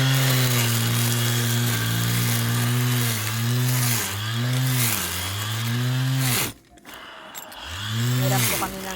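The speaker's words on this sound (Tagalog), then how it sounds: "Grass cutter tayo guys." Rechargeable grass cutter running steadily as it cuts grass, a loud continuous motor whine that dips and recovers under load, briefly cutting out near the end before spinning back up.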